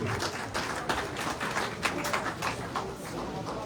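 A crowd at a speaking event for Peter Obi in Atlanta, USA, claps in steady, dense applause that runs for the whole stretch, with brief bursts of louder clapping.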